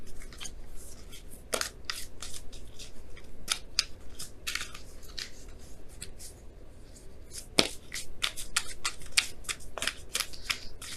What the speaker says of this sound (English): I'm going to pull you guys your Romance Angels card here for the week.